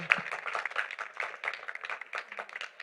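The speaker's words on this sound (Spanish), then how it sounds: "Bueno, un aplauso, sí." Scattered, moderately quiet clapping from an audience at a book fair panel, irregular claps from a modest crowd.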